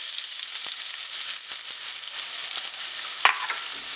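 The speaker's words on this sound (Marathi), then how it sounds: "आता मी त्याच्यामध्ये कांदा टाकते," Onion hits browned garlic in a hot pan for a dried mini prawn dish, setting off a loud, continuous close sizzle. A few light ladle ticks and one sharp click come near the end.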